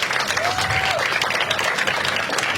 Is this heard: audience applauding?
yes